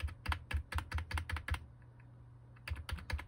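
Keys on the computer keyboard of a Compaq Presario SR5413WM are pressed repeatedly to enter the BIOS, with quick, close clacking taps in two bursts and a short pause between them.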